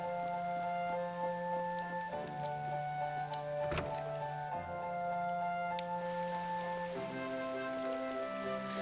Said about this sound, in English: it's also raining in real life. So I keep hearing the rain behind me.